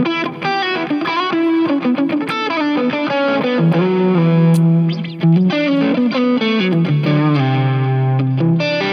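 Electric guitar played alone through a Rat distortion pedal, with loud, sustained, gritty lead notes and chords ringing continuously, some held notes sliding between pitches, steady and close throughout.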